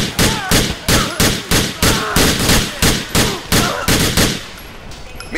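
Gunfire in GTA 4 rattles out in a steady burst of about a dozen loud, evenly spaced shots, close and unbroken, fading to a quieter tail at the end.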